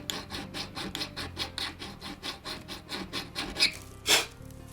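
Metal file strokes taking burrs off the slot of an antique Seth Thomas clock screw: a close, steady rhythm of short rasping scrapes, about three per second, ending in a sharper scratch; no talking.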